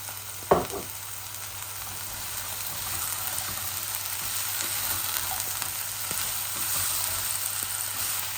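Potatoes fry in oil in a pan for a home-cooked chicken and bitter gourd meal, a steady close hiss of sizzling after a brief clatter at the start, continuing evenly throughout.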